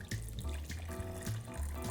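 Warm water running from a tap or pouring steadily into a container with vegan beef-flavored bouillon, a continuous close splashing flow with a few brief changes in intensity.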